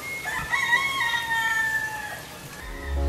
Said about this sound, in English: roosters all night long.